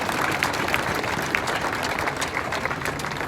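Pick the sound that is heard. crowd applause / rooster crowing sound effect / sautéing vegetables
crowd applause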